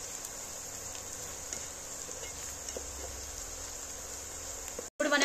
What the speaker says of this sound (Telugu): ఈ పసుపు కొంచెం పచ్చి వాసన పోయే వరకు వేయించుకోండి